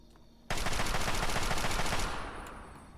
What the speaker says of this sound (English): it's definitely a sniper rifle